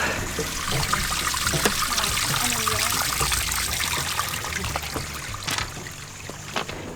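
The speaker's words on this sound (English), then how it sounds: "it looks like the stairs have become a waterfall" Water running down hiking-trail stairs like a small waterfall, a loud close splashing and trickling rush that holds steady throughout, with no voices.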